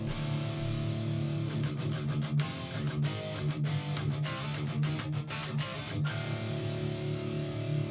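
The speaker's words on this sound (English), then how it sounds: "So this is like a Marshall cabinet, and it sounds like this." Distorted electric guitar through a Marshall cabinet impulse strums chords with a full, amplified tone, played rhythmically at moderate volume with no voices.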